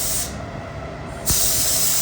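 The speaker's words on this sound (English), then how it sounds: "if I'm spraying from underneath, it's going to kick dust up" Aerosol spray paint hisses onto car wheel spokes for cel-shaded cartoon-style paint, a close, steady burst that cuts out after about a second before a stronger spray resumes.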